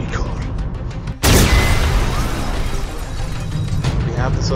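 An explosion erupts as a sudden, loud broadband blast about a second in, then a dense, sustained roar and rumble holds at full level through the rest.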